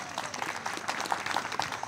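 Steady audience applause fills the space at a jazz festival in Sigean, France, a dense wash of many hands clapping at moderate distance, even and sustained throughout.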